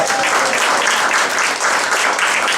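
A comedy club audience claps in a dense, loud wash of applause that holds steady throughout.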